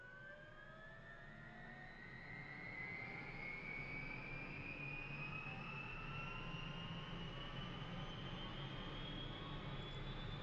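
A Huey helicopter's turbine engine spins up in Microsoft Flight Simulator, rising whine sweeping steadily upward in pitch over a low rumbling roar that grows slightly louder after the first few seconds, with no voices.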